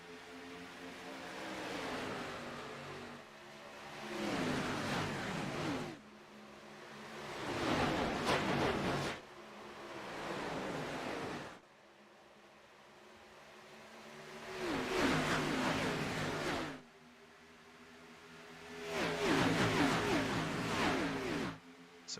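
Race cars in a sim-racing series at Auto Club speedway accelerate together on a green-flag restart, engines swelling in repeated loud surges between quieter gaps as the pack comes up to speed.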